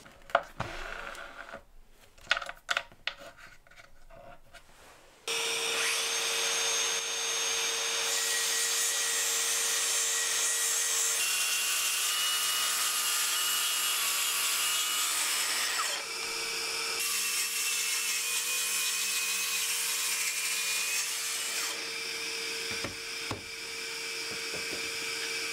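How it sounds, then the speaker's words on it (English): A track saw cuts panels at a 45-degree miter for a TV stand and shelves, its steady high whine running about twenty seconds after a few scattered knocks and handling sounds. "use the track saw and cut it down at 45 degrees and miter the corners"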